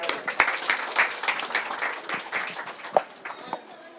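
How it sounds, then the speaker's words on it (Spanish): Audience applause fills a hall at a colloquium on Arab influence: dense, steady clapping from many hands, moderately loud, with a few sharper individual claps standing out before it gradually thins toward the end. "yo creo que eso merece un aplauso también"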